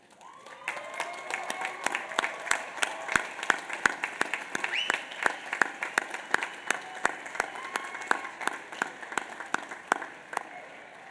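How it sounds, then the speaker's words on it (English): At a Union College commencement ceremony, a large crowd applauds, swelling from a scattered start into sustained clapping with sharp individual claps standing out, some cheering mixed in, then slowly thinning. "join me in thanking them with your applause"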